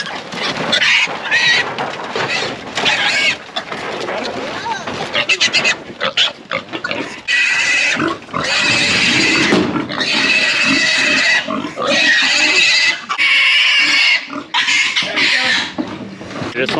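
Pigs at a greased hog catch squeal loudly while being caught and carried, shrill piercing screams in long bursts close by, with people talking in between.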